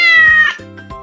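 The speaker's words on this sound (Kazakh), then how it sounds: "Бұл мысық." A cat lets out one loud, drawn-out meow, followed by two shorter, quieter meows, clear and close with no other sound.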